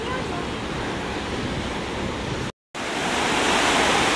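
Sea waves break on a beach in Spain while a strong wind buffets the microphone, giving a steady, loud roar of surf and gusts that cuts out for a moment near the middle.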